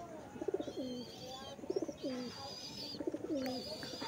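Pigeons coo in repeated rolling phrases inside a loft full of eggs and chicks, three bouts with pauses between, while faint higher chirps and a soft background hum continue.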